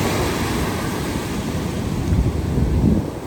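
Big ocean waves breaking on a New Smyrna Beach shoreline, a steady loud wash of surf with wind buffeting the microphone and a swell building toward the end.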